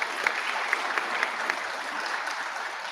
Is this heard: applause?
yes